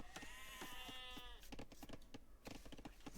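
Sheep in the video game Age of Empires give a short bleat, followed by sharp clicks and game effects, all quiet and faint with no talk.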